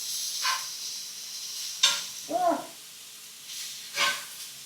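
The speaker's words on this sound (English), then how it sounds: "The key is make sure your pan is hot before applying the food. And then just stir it all up a little bit." Rice and food stirred in a hot pan during meal prep, a soft sizzling hiss underneath a few distinct scraping stirs of a utensil, close by, with no talking.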